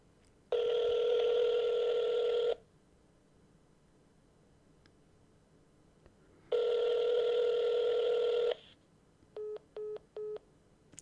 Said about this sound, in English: I'm going to call them right now.